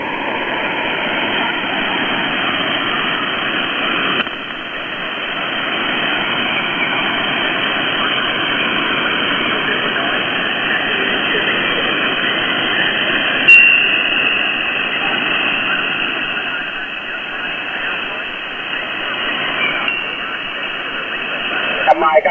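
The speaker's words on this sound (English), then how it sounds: "Mike, I got proud of that, but I got QRM" Amateur radio voice transmission over a boat anchor net, buried in steady static hiss and interference, with an operator talking through the noise for the whole stretch.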